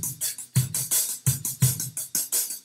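A sampled drum groove with a steady 16th-note hi-hat played using two sticks, bright accented hat strokes riding over punchy kick and snare hits in a tight, even rhythm, loud and close.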